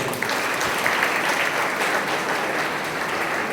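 An audience at a music festival and lecture in Koppal gives loud, sustained applause for the teachers, a dense, even wash of clapping throughout with no talk.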